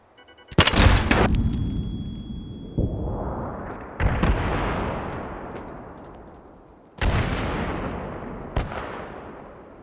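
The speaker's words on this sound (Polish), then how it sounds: "Ale trochę poczułem tą eksplozję, nie powiem." A cooked RPG-7 explodes in a game: a sharp, loud boom followed by a rumbling roar, then a series of further deep blasts, each fading slowly before the next.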